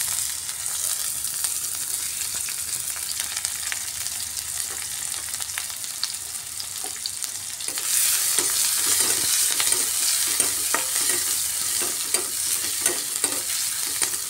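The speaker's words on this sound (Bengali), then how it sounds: "তেলটা গরম হয়ে যাওয়ার পর এর মধ্যে দিয়ে দিচ্ছি কেটে রাখা ছোটো সাইজের একটা পেঁয়াজ" Chopped onion frying in hot mustard oil in a pan, a steady close sizzle with repeated stirring scrapes that grow busier and louder in the second half.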